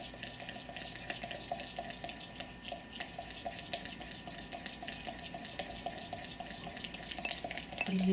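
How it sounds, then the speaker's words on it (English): Self-tanning mousse mixture stirred in a container, a soft continuous swishing with light scraping and faint taps of the utensil, close and quiet, no speech. "you give it another good"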